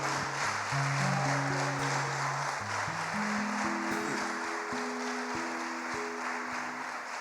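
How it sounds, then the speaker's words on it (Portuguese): Congregation applauding during an evangelical sermon, a continuous wash of clapping under sustained organ or keyboard chords. "Dá uma salva de palmas ao Senhor."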